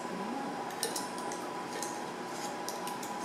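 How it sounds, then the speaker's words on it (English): Metal screw tops being turned onto glass canning jars of chipotle beef, light clinks and scraping ticks in small clusters, close and fairly quiet, with no talking. "And now you're going to want to put your lids on. Or not your lids, screw tops."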